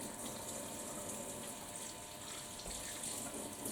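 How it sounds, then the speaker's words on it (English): Tap water running into a kitchen sink while hands are washed, a faint, steady, continuous rush of water with no one talking. "I'm going to wash my hands"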